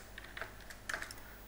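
Typing a MongoDB query on a computer keyboard, with faint, quiet keystrokes clustered in a few short bursts over a low background hum and no talking.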